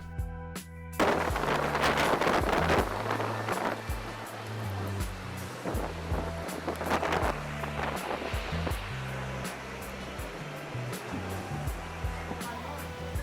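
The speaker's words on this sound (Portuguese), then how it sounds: "a trovoada que já se fazia ouvir deu origem a uma chuva intensa e rajadas de vento muito" Heavy rain and strong gusting wind during a thunderstorm at Pamukkale give a loud, continuous rushing roar that buffets the microphone, with rumbling surges rising and falling throughout.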